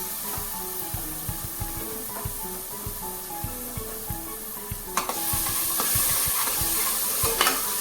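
Tomato puree is stirred into sizzling masala for a masala mung dish, a spoon scraping the pan in a steady rhythm over continuous frying, the sizzle swelling louder partway through.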